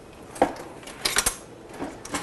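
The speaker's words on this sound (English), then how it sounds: "Now, let me grab a spoon." A spoon clinks against pots and dishes in a home kitchen while mustard seeds and beer are being mixed, giving a few sharp metallic taps close by, clustered in a quick burst with no talk.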